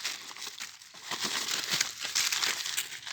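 Plastic bags rustle and crinkle up close at a garbage dump, a continuous dry crackling with irregular louder crunches and no voices.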